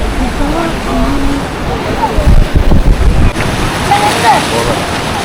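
Ocean surf at Kanyakumari, where the Arabian Sea, Indian Ocean and Bay of Bengal meet, rumbles continuously with wind buffeting the microphone and faint background voices.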